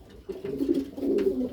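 Female pigeon in a loft gives a close, low, throaty coo in two swelling bursts, alone without talk.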